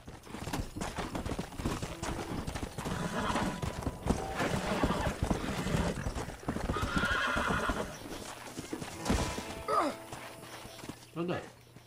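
A horse in Red Dead Redemption gallops with hoofbeats under a busy game soundtrack and neighs loudly near the end, a shrill whinny rising and falling twice, with a voice talking partway through.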